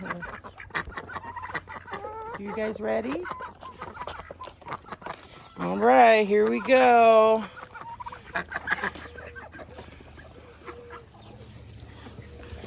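Farm chickens clucking and cackling around feeding time, with one loud, close squawking burst in the middle, while a person talks casually over the birds.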